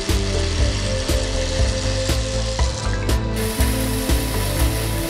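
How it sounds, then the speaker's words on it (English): A PRINZ chainsaw cutting horizontally through a brick masonry wall for damp-proofing, a loud, harsh mechanical grinding and rattling with a steady engine drone and pulsing chatter throughout. "With our variety of chainsaws, brick walls can be dried out simply and quickly."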